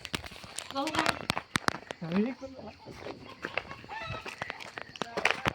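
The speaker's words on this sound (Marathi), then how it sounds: "कोंबडा धरायला लावलाय" A rooster clucks and squawks in agitated bursts as people try to catch it at a rural household ritual gathering. Sharp calls and scuffling come through close by, with people talking and shouting throughout.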